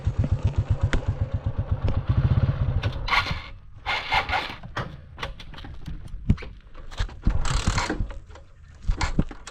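A motorbike engine idles and revs nearby in a Kenyan village street, its low throbbing running under clattering, rattling knocks and scattered bangs, with the motor rising and falling in loudness as it passes.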